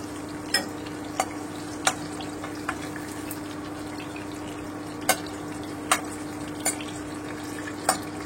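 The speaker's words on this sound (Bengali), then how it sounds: "মাখাটা আর একটুখানি ভেজে নিচ্ছি" Spice paste for magur fish curry frying in a pan, a low steady sizzle with a constant hum underneath and occasional sharp clicks of a utensil against the pan.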